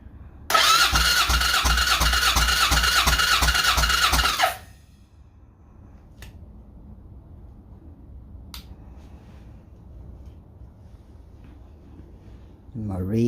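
Suzuki VS750 Intruder V-twin engine cranking on the starter with the throttle open for a compression test, a loud, rapid, steady rhythmic churn lasting about four seconds before cutting off into quiet.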